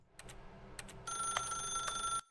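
A telephone rings in the video game The Stanley Parable Ultra Deluxe, a bright electronic trill with steady tones that sounds after a few soft taps and cuts off abruptly near the end. No one speaks.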